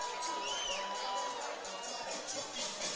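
A crowd at a boxing main event at the Star cheers and shouts between rounds, a distant, fairly faint roar with scattered whoops.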